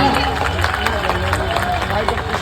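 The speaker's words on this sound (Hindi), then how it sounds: "एक बार जोरदार ताली मार देंगे, जोरदार तालियां" Loud, dense applause and cheering from a large crowd at an Ambedkar Jayanti gathering, steady throughout with crowd noise and voices mixed in.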